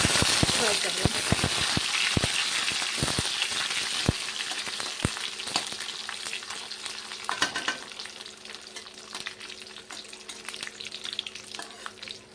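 Dry fruits fry in two to three tablespoons of ghee for carrot halwa, giving a steady close sizzle with sharp pops and crackles, louder at first and easing slightly as it goes on.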